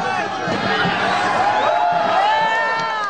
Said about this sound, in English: Lots of cheering as dressed-up tea partiers threw boxes overboard into Lady Bird Lake